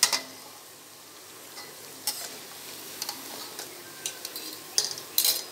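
Lachha mathri frying in a pan, a low steady sizzle with scattered light ticks and scrapes as the pieces are turned, close and fairly quiet with no talk.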